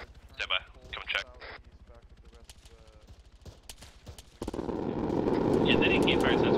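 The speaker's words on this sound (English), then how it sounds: "Yeah, that AK fire sounds pretty close." AK rifle fire in a military video game swells into a sustained, dense roar of shots from nearby, following a stretch of talking.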